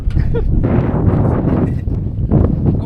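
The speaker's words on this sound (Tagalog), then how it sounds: "Sobrang lakas nga ni pala ng hangin dito sa Tabigi." Strong wind at Tabigi by the Boac River buffeting the microphone in loud, rumbling gusts that surge and ease, with faint rustling underneath.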